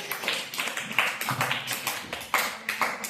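A class applauding a student for her good handwriting, scattered light claps in an uneven patter, close and fairly soft, with no talking.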